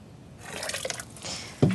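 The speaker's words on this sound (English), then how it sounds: "The hot water which we're pouring onto the malted grain releases enzymes which help to break down the coat of the grain" Hot water pours onto malted grain in a brewing mash tun, a soft splashing, trickling stream that rises, dips, then ends with a brief knock.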